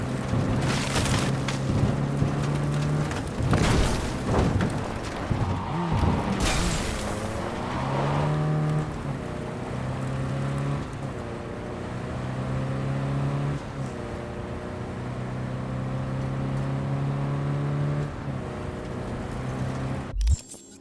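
A car engine hums and revs in Cyberpunk 2077, with rising and falling tones as it accelerates through gear changes, a few loud booming thumps early on, and a steady drone running throughout.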